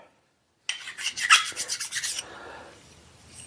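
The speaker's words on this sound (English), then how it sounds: "File the burrs off of here so it sits flat." Metal file rasping burrs off a freshly sawed part for a mini lathe headstock trap door, a run of quick scraping strokes close to the mic after a brief silence, fading into lighter rubbing.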